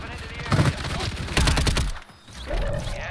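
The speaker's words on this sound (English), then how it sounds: "That was shooting from outside the building." Gunfire in a video game, shots coming from outside a building, several bursts of moderately loud shooting mixed with a man's speech and game ambience.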